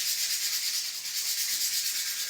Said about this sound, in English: it's going to also need to be sanded because now we have a little bit of green left